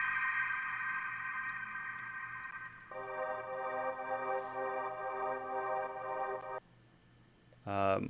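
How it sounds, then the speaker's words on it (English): Recorded chord sweeps soaked in heavy reverb and delay ring out as sustained layered tones, one long chord shifting to another before fading, then a new bright sweep rising at the end, with no voices. "we have these chord sweeps that I recorded, and then just drenched in reverb and delay"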